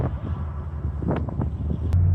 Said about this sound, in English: the only thing you can hear is the subtle grumble of the engine and nearly no sound from the outside whatsoever